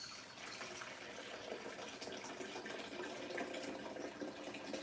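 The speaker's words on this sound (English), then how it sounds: "I gotta put some fucking water in this coffee pot." Tap water runs into a coffee pot as a steady, hissing gush that continues without a break at moderate loudness, with no talking.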